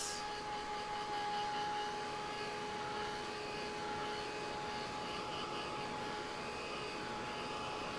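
A handheld dryer blows steadily on a freshly painted pumpkin to dry the gold paint, giving a loud, continuous airy whoosh with a faint motor whine throughout.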